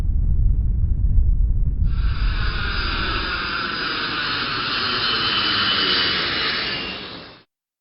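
A jet airliner takes off: a deep engine rumble gives way to a loud, sustained roar with a bright whining hiss that holds steady, then cuts off abruptly.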